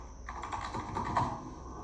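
Quick clatter of keys on a computer keyboard as a short search query is typed, a close, brisk burst of keystrokes with no talking.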